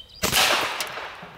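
A single sharp, loud report from a BinTac T9 .357 big bore semi-automatic PCP air pistol as the shot strikes a cinder block, fading quickly with no speech.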